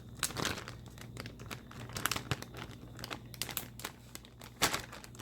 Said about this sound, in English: So this is the bag of pork and the buttermilk in the Ziploc bag.